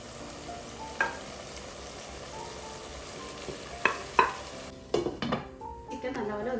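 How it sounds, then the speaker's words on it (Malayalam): Grated coconut roasting in a pan for Kasaragod-style chicken urukkiyath makes a low, dry sizzle under repeated stirring, with sharp scrapes and clinks of a spoon against the pan that come thicker toward the end. "അതിന് വേണ്ടിയിട്ട് തേങ്ങ നമുക്കൊന്ന് ജസ്റ്റ് ഒന്ന് വറുത്തെടുക്കാം."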